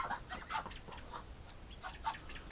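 A flock of farm ducks quacks in a busy overlapping chorus of repeated nasal calls, close by and moderately loud, with no one speaking.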